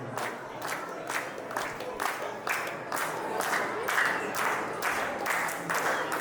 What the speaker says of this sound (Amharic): ጭብጨባ ይጨምራል ይቻላል።